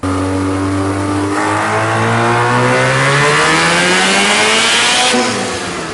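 A high-mileage Mazda RX-7 GSL-SE rotary engine revs hard on a chassis dyno, its pitch climbing steadily through one long loud pull before easing off at the end, with no talk.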